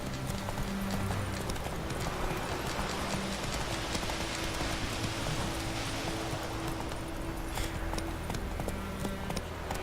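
Horse hooves clip-clop at a gallop in The Witcher 3 video game, a steady, fairly loud rhythmic beat that continues throughout, with an occasional whinny over the thudding.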